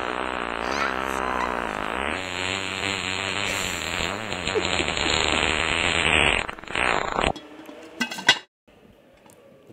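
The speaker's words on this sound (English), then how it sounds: "It is the most powerful fart that I own." A recorded fart, long and loud, a sustained buzzing, rasping blast lasting several seconds that sputters into short bursts before cutting off, followed by faint clatter.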